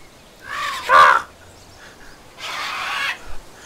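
Two harsh, raspy cawing calls, loud and close, from a dinosaur in the video game The Isle, the first short and sharp, the second longer and hoarser after a brief pause.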